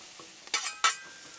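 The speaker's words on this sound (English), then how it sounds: "Let's get all this mixed up together and get it cooked down." Vegetables being stirred on a Blackstone griddle: two short bright scrapes of a spatula across the flat steel, close and fairly loud over a faint background, with no talking.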